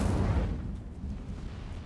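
Incendio fire spell cast in Hogwarts Legacy, a deep booming whoosh bursting out at the start and then fading into a low rumbling tail, with no talk.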